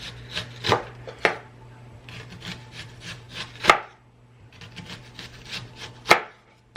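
A knife chops an onion on a cutting board in a home kitchen, with several quick bursts of rhythmic slicing taps separated by short pauses, each ending in a sharper thunk.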